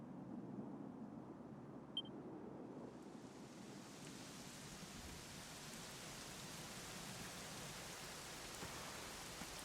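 Steady rain falls in Dragon Quest XI: Echoes of an Elusive Age, a constant close hiss that swells slightly and keeps an even patter throughout, with no talking.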